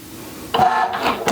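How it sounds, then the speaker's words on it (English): A Cricut Joy Xtra cutting machine starts cutting faux leather on a mat, a sudden close motorized whir with a buzzing carriage that runs on after a quiet start. "The Cricut machine will then cut the faux leather."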